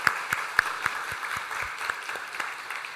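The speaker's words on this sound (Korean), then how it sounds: "우리 박수로 축하하도록 하겠습니다" A church congregation applauds to congratulate a couple, a short burst of scattered hand clapping with distinct individual claps, moderately loud and fading slightly.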